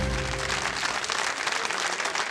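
A studio audience on a television quiz show applauds in a steady, dense clatter of clapping that carries through without a break and with no talk on top.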